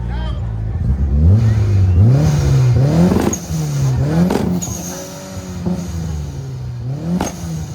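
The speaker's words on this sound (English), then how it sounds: "if you would do us the courtesy of giving us a little revving of the motor" A high-performance car engine at a motorcar cavalcade revs hard and close, climbing and dropping through several sharp, loud throttle blips in a row.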